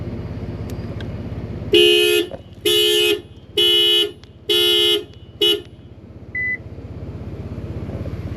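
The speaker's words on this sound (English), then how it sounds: "Horn went off several times." Subaru Impreza horn blares five times in quick succession, loud and close, the bursts uneven in length with the last one clipped short, over a steady low engine-like hum.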